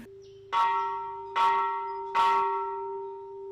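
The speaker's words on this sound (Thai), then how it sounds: "เสียงระฆังในเวลา 10นาฬิกา50 นาที เป็นสัญญาณแจ้งให้พระเนรในวัดแห่งนี้ทราบว่า ถึงเวลาที่ต้องลงมาฉันเพนภายในหอฉัน" A large Buddhist temple bell in Chiang Mai, Thailand, is struck three times at a slow, even pace, each ring swelling loudly and then lingering with a sustained hum.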